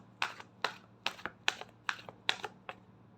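Tarot cards are shuffled by hand in a quick, even series of about seven crisp, close slaps and flicks, each followed by a softer tap, with no talking.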